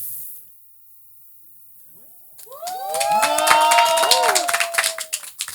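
After a near-silent pause, a concert crowd erupts in applause with rising whoops and cheers, loud and close, the clapping and shouting building and holding as the artist takes the stage.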